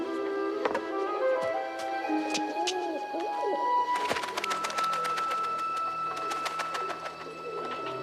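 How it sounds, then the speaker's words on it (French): Pigeons coo and warble in a cage in a desert setting, their soft rolling calls close and repeated, with metallic clinks and taps as a bird is handled and a bright ringing rattle in the second half. No one talks. "Elle prend un pigeon dans la cage bleue."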